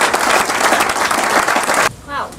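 A room full of people applauds Warren Mosler after his talk at a London economics event: thick, loud clapping for about two seconds that cuts off abruptly, followed by a brief voice.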